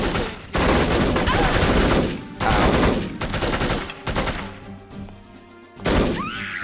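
Bursts of loud, rapid gunfire in the video game No One Lives Forever arrive in several heavy volleys separated by short lulls, with a brief voice heard among the shots.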